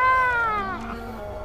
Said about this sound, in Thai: โอ้ยแมวนะ